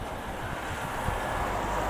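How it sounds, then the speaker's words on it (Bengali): Strong wind roars steadily at Nathula Pass, a high mountain pass in Sikkim, a broad continuous rush buffeting close to the microphone for the whole stretch with no voices. "টাক টাক করে হাওয়া মারছে"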